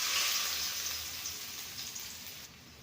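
Finely chopped onion, a handful, frying in hot oil for a jackfruit seed cutlet, a steady close hiss and sizzle running throughout with no talk.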